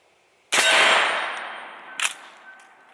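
A single loud shotgun blast of double-aught buckshot fired at a steel target at 15 yards, a sharp report with a ringing metallic clang decaying over a couple of seconds, followed by a fainter second impact ping.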